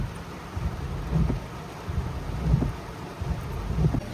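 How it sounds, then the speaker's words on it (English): Steady rain falls on a wet campsite, with low rumbles of thunder rolling faintly in the distance and a soft wind-like hiss throughout; no talking. "Yep, it's definitely still raining."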